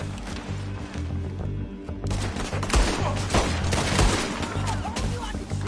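Dense gunfire rattles through a shootout in Red Dead Redemption 2, rapid overlapping shots over a continuous layer of game music and ambience, loud and close, with character voices partly audible.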